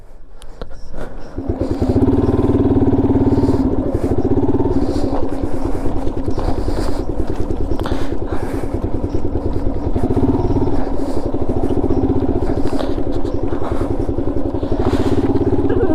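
A solo motorcycle ride on a road near Bengaluru: a steady, loud engine drone with clattering mechanical texture that runs continuously after a quieter start, close to the rider.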